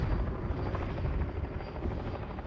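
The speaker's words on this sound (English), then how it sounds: "We got a helicopter coming here. It's a chopper." A helicopter's steady rotor thump and engine roar fill the whole stretch, loud and constant as it passes close overhead.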